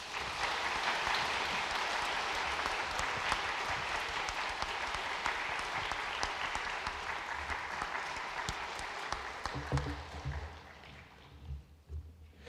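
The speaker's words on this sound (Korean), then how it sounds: "우리 큰 소리로 크게 박수로 우리 축하하며 격려하겠습니다." Loud, sustained applause from a church congregation during a Sunday worship service, dense clapping filling the room for about ten seconds before thinning out and fading to scattered claps.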